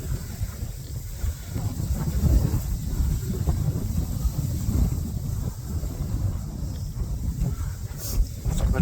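Wind buffets the microphone on a state park hiking trail with a low, gusty roar that rises and falls unevenly, and the hiker's faint footsteps and breathing sit underneath.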